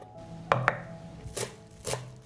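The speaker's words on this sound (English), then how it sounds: "I will chop 4 cloves of garlic." Chopping four garlic cloves with a knife on a board: a few sharp, close knife strikes landing in a quick pair and then two more spaced apart, with no talk.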